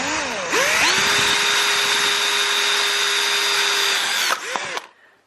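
Power drill boring a hole into the thick plastic of a Fisher-Price Chatter Telephone toy, a close, loud steady whine that rises at the start, holds for several seconds, then stutters and winds down.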